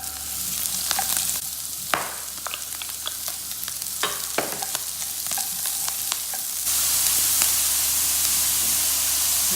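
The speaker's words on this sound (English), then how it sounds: "now I'm going to add in my onion" Chopped onion frying in oil at a gentle low heat for chilli con carne, a close, continuous sizzle dotted with sharp pops and crackles that swells into a brighter, louder hiss in the last few seconds.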